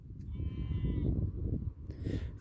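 Sheep bleating on a farm field in Ireland, a couple of drawn-out calls standing out near and clear over steady low wind rumble.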